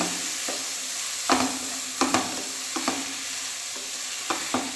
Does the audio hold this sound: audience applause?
no